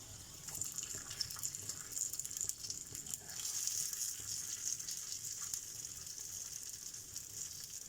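A chicken and cheese quesadilla cooks in a pan over low to medium heat, giving a soft, steady sizzle with faint crackles throughout, fairly quiet and with no voices.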